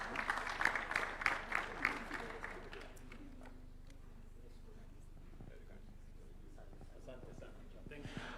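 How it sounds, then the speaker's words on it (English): An audience breaks into applause at a formal national address, heard as a dense burst of clapping that fades out after about three seconds. Scattered claps follow under quiet room noise, and someone speaks. "Give them a round of applause"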